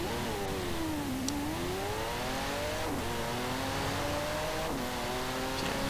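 A 2012 Pagani Huayra in Forza Horizon 4 accelerates hard, its engine note climbing steadily and dropping sharply at each gear change, three rising sweeps in a loud, continuous roar.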